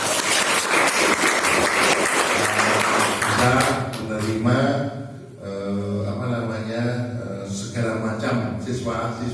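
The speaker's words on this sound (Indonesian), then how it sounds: "Tepuk tangan dong" Applause from a school seminar audience swells loudly at first, then thins and fades as a voice speaks over the tail through a PA system.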